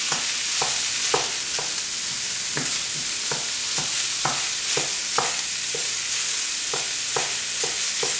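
About 1.5 pounds of ground beef browning in a pan, a constant sizzle and frying crackle broken by repeated scraping taps as the meat is chopped and stirred into smaller pieces.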